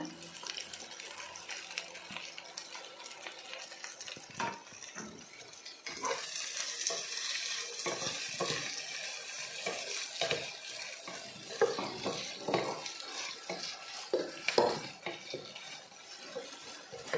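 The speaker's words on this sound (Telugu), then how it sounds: "ఆనియన్స్తో పాటు ఇదిగండి పచ్చిమిర్చి కూడా వేసేసాను కలిపే." Onions and five or six green chilies frying in a pan for Andhra-style gongura chicken, stirred with repeated scraping strokes over a continuous sizzle. The sound is close, with stirring growing busier after the first few seconds and no talk.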